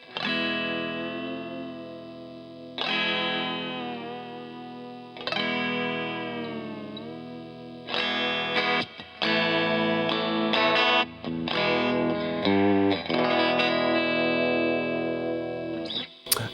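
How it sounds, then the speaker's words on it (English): Electric guitar with a Bigsby vibrato arm, slightly out of tune, playing distorted chords and notes through effects that ring out loudly with pitch bends and sustained tones, alone. "when you raise the Bigsby arm up, it doesn't quite return back where it should"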